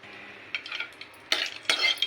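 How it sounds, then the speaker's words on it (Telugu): Spices frying in hot oil at the start of a chicken curry, with a steady soft sizzle broken by a few sharp bursts of stirring and metal spoon scrapes against the pan. "ఇలా మసాలాలన్నీ కూడా ఫ్రై చేసుకోవాలి"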